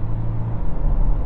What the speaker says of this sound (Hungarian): És még talán kicsit kis fütyülés is van a motortól.